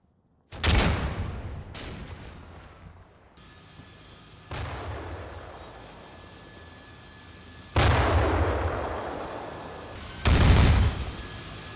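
Incoming grenade fire from a town in Combat Mission Cold War lands as several heavy booming blasts, irregularly spaced, each a sharp loud crack with a decaying rumble, with quieter ambience between impacts.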